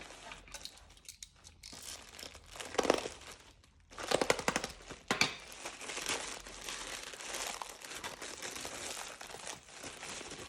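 Someone unwraps a new pack of Guangna acrylic markers, with close, continuous crinkling and rustling of packaging and a few louder tearing bursts. No one speaks.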